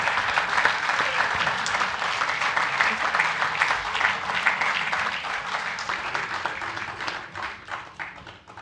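Members of a metropolitan council applaud a colleague named David in a meeting room, continuous clapping from many hands that stays full for several seconds, then thins and fades out.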